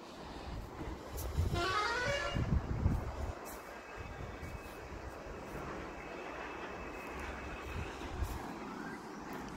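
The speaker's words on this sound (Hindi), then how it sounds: "हाईवे की गाड़ियों की बहुत आवाज आती है यार।" Highway traffic passes beside fields after morning rain: a steady roar of vehicles, a car horn sounding early, then a continuous rumbling wash of passing traffic at a moderate distance, with no voices.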